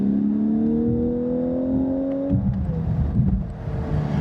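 A smooth sports car at a Miami open-top car event accelerates with a rising engine note that climbs steadily, then shifts and settles into a lower, rougher drone, close and fairly loud.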